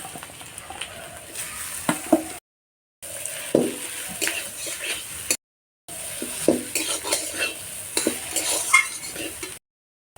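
A potato filling is stirred and fried in a pan, with steady sizzling and repeated scraping and clinking of a spatula against the metal, close and fairly loud across three stretches broken by short silences.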